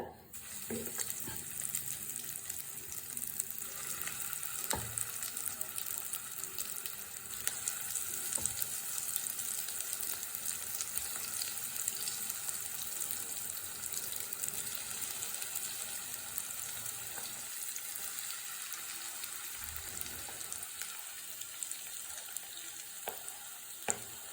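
Breadcrumb-coated potato balls fry in oil, giving a dense, steady bubbling sizzle that runs unbroken and fairly soft throughout, with no talking.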